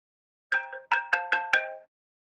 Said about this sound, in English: I don't know who's got their phone on and it's ringing